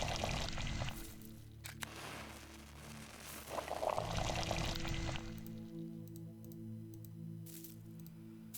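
Water pouring out in the video game Pathologic 2, a steady liquid gush that runs through the first half then trails off beneath game ambience and faint keyboard tapping.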